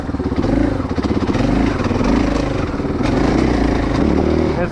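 KTM 500 dirt bike engine working hard on a hill climb, a loud, close, continuous buzzing roar with pulsing throttle changes throughout.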